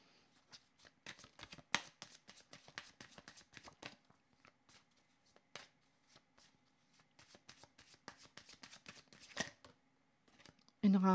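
Tarot cards shuffled by hand in a quiet room, a long run of soft, rapid riffling and flicking that comes and goes in bursts, close and fairly faint, ending with a brief louder thump.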